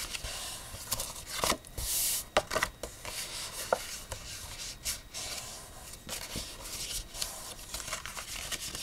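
Paper folds for an envelope box are creased with rubbing, scraping and crinkling strokes at an irregular pace, close by and fairly quiet, with no talking.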